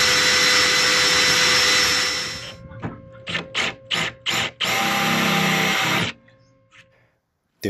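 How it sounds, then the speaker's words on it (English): A power drill whirs loudly, drilling the heads off stuck screws, then stops and starts in several short bursts before one longer run, with no talking. "I ended up having to drill the heads off all of them."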